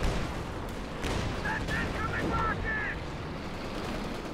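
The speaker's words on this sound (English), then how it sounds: "More rocket artillery." Rocket artillery barrage rumbles through a Company of Heroes 2 battle, a dense continuous roar of distant blasts with a brief whistling streak, and a voice talks over it.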